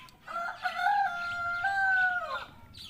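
A chicken with a cold gives one loud, drawn-out crow lasting about two seconds, close by and alone, with short clucks just before and after.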